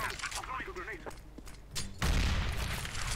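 Grenade blasts in the CS:GO first-person shooter, a loud, broad burst landing about two seconds in after a stretch of quieter game sounds and a voice talking.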